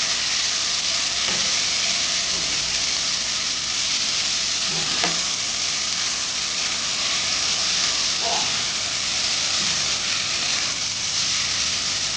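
Pineapple pieces hiss and sizzle in a hot pan while being stirred for a Konkan-style sweet and sour pineapple sasav, a steady close frying crackle with occasional scrape of a spoon throughout.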